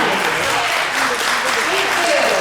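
A crowd applauds winners at an evening campaign event for a city council re-election, sustained clapping throughout with voices talking over it.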